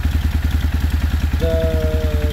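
A motorcycle engine idles close by with an exhaust leak, making a loud, rapid, rhythmic chugging puff that stays steady throughout.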